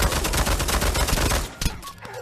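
A World War II gun in the shooter game Pavlov fires a rapid, loud burst of close automatic shots lasting over a second, then a few trailing single cracks.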